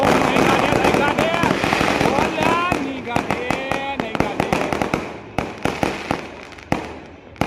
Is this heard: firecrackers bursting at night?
yes